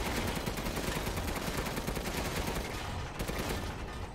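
Rapid, sustained gunfire in Resident Evil Village, a dense, loud barrage of overlapping shots with no clear gaps, steady from start to finish with no voices.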